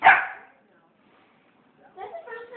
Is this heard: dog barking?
yes